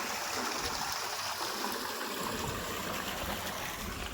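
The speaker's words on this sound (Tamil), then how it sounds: "பயிர்கள்லாம் தண்ணி ஸ்பீடாக போகுது பாருங்க, ஃப்ரெஷ்ஷாக போகுது தண்ணி அப்படியே." Water rushing fast through an irrigation channel on a village farm, a steady broad splashing roar with gurgling, continuous and close, with no voices.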